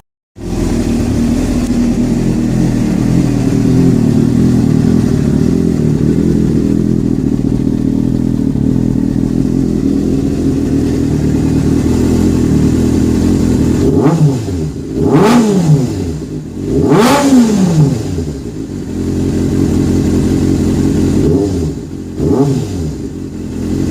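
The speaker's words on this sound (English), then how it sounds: "the engine stay running to warm up fully, because well, you always need a few revs" A Kawasaki ZX6R motorcycle engine idles steadily and loudly while warming up, then a series of sharp throttle blips rise and fall toward the end, several quick revs close by.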